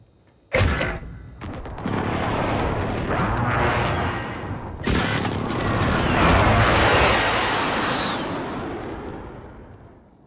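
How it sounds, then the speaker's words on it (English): Video game precision airstrike explosions go off: a sharp blast followed by a long rumbling roar, then a second heavy boom leading into sustained rolling detonations that slowly fade. "Enemy precision airstrike."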